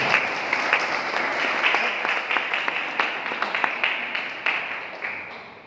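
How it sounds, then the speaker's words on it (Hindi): Seminar audience in Bhiwani applauding, a dense, steady burst of many hands clapping that carries on for several seconds, fairly loud and mostly alone, fading slightly at the end. "तालियां खूब बजली क्या?"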